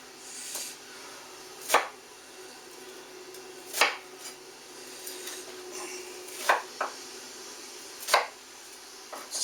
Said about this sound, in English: We're going to do rough chop these the same as the peppers